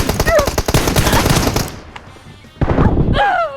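Rapid automatic gunfire in PUBG Mobile crackles in a dense, loud burst, then a brief lull before more shots, with players' voices over the top.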